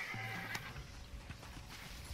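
A horse whinnies in Red Dead Redemption, a faint, short neigh near the start amid quiet hoof clops and background game sound.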